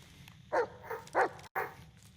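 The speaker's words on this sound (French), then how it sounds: "mais arrête de japper, toi" A dog yaps in the Blair Witch video game, four short close barks in quick succession over a steady low background hum.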